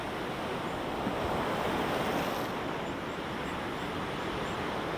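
Sea waves wash over the rocks below Arbroath Cliffs as the tide comes in, a steady broad roar with gusting wind and no pauses or voices.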